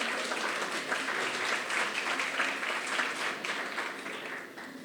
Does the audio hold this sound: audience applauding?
yes